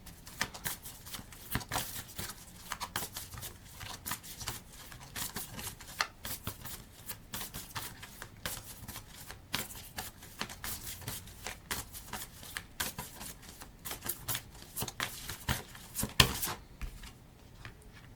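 Cards from a Starseed Oracle deck are shuffled close up in a steady run of crisp riffling flutters and slaps that go on without pause, with no one speaking.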